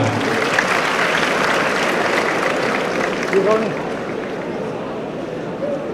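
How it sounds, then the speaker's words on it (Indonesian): Steady, loud applause from a large audience at a transport school graduation ceremony, with a few voices audible over the dense clapping as it eases off slightly toward the end. "Oke, tepuk tangan."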